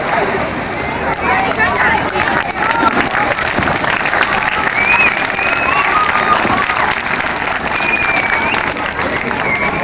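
Loud, dense audience clapping fills a killer whale show arena, steady throughout with crowd noise, faint cheering and water sloshing mixed in.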